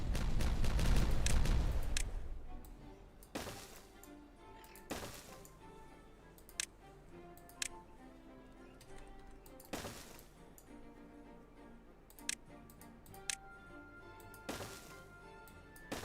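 Explosives detonating in the Timberborn video game: a loud rumbling blast at the start, then a string of sharp cracks spaced a second or two apart, fading over quiet background.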